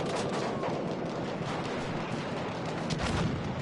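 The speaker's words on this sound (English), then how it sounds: "Lots of explosions inside." Battlefield 1 combat: a dense, continuous wash of explosions and gunfire during a tank battle around a building, loud and noisy with overlapping booms and rattling shots, no voices.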